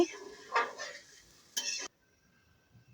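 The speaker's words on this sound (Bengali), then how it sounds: "পরিষ্কার করে রাখা লোটে শুটকিগুলো দিয়ে আবারও মশলার সাথে ভালোভাবে মাখিয়ে নিয়ে ঝোল দিয়ে দিচ্ছি" Dried Bombay duck fish being mixed with spices in a pan makes two short bursts of stirring and scraping, close and moderately loud, followed by near silence.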